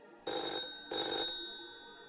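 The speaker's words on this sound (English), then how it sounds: "And then the phone rang." A telephone rings twice in two bright, even bursts with a short gap between them, the second ring fading into a lingering tail, with no voices present.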